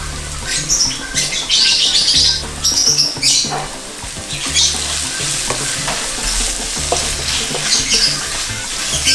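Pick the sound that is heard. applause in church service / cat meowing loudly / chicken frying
chicken frying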